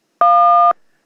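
Recorder blown to imitate a dual-tone telephone keypad signal: one steady, loud, pure note holding for about half a second, then a faint trailing room echo.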